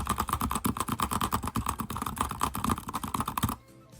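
Keys on a computer keyboard are tapped in a fast, steady stream for the rhythm game osu!. The clicks are close and crisp, continue for about three and a half seconds, and then stop abruptly.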